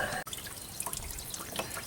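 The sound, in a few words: spraying water through radiator hose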